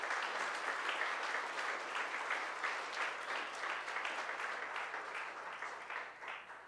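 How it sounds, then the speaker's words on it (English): An audience applauds steadily for an award winner at a team awards banquet, a dense, even wash of clapping hands filling the room for several seconds before easing off slightly at the end. "So, round of applause."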